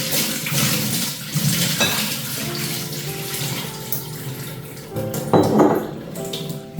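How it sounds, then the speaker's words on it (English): Filtered water pours over sprouted buckwheat seeds for a final rinse, a steady close splashing stream with a few light clinks of a bowl or sieve against the sink. "And then I'm going to do a final rinse with filtered water."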